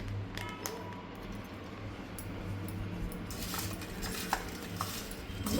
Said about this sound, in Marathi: मीठ टाकून हळद टाकून मिक्स करून घ्यायचं।